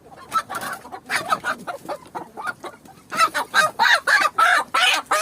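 Several hens of a breed said to lay four eggs a day cluck in a dense, busy chorus, with short overlapping calls that grow louder and more crowded toward the end. Nobody speaks.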